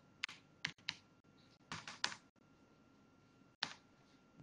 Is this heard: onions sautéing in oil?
no